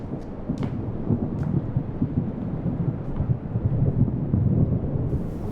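Heavy rain pours steadily while deep thunder rumbles continuously through it. A few sharper cracks stand out near the start, and the storm stays loud and close throughout, with no talking.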